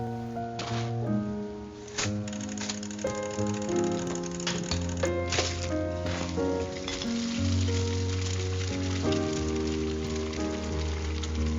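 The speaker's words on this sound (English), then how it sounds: "I love the rhythm of the raindrops as they accompany the music." Rain falls steadily in the video game Behind the Frame, a soft patter of drops running under a gentle melodic music track throughout.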